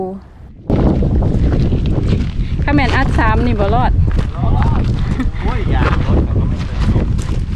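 Strong wind buffets the microphone with a steady, loud roar at a hilltop wind turbine viewpoint, while people talk over it throughout.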